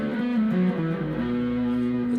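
A heavily distorted Samick electric guitar, made in Korea, plays sustained, buzzing notes that slide between pitches, loud and continuous with no pauses.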